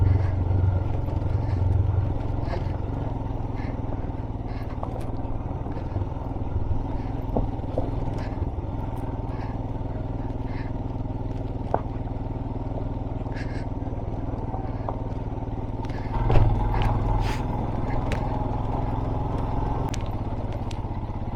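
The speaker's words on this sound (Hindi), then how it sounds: "बहुत अच्छी चल रही है ऐसे तो बाइक।" A motorcycle rides on a rocky, stony off-road track through a remote mountain village, its engine droning steadily up close with occasional clatter and scrapes from the rough ground.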